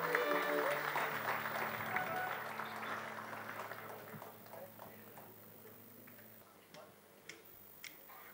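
Warm applause from an audience welcoming a singer at a live Mumbai music concert, loudest at the start and gradually thinning into a few scattered claps, with a steady tone from the stage system underneath.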